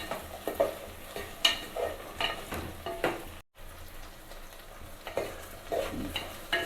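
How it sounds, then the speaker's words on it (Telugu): Okra pieces and onions frying in a pan for bendakaya pulusu, a steady sizzle broken by the scrape and clink of a spoon stirring every second or so, close and moderately loud, with no talk. "బెండకాయ ముక్కలతో పాటు ఉల్లిపాయలు బాగా వేగుతాయి"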